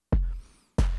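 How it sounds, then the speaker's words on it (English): A very simple drum loop of kick and clap, two hits about two-thirds of a second apart, each a punchy low thump with a short decaying tail, dry and alone. "a very simple drum loop containing like a kick and a clap"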